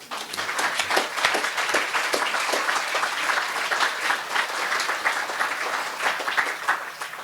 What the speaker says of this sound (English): I invite them to applaud you. Please applaud.